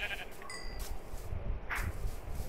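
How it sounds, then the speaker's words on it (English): A sheep bleats in a blocky survival-crafting video game with bees and livestock, a short harmonic call rising briefly over a steady backdrop of game ambience and background noise, fairly close but not loud. "I found two sheep."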